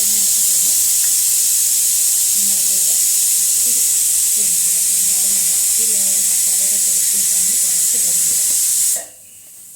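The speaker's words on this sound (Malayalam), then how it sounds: "ഇനി നമുക്ക് കുക്കർ അടച്ച് വെച്ച് 2 വിസിൽ വരെ ഒന്ന് വേവിച്ചെടുക്കാം." A pressure cooker on the stove, cooking potatoes for curry, lets out a continuous strong hiss of escaping steam. Faint talk sits underneath, and the hiss cuts off abruptly near the end.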